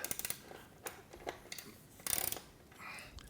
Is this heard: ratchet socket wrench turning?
yes